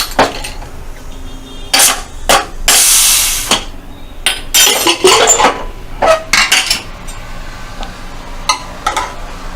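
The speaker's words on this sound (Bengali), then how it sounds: "কুকারের ঢাকনাটা খুলে দেখি এটা হয়েছে কি।" A pressure cooker lid is worked open with loud metallic clanks and clatters, followed by a strong hissing rush of escaping steam and further pot-and-lid knocks, with no talking.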